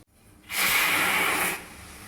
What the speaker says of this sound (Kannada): Cooker whistle ಕೂಗ್ಬಿಡ್ತು.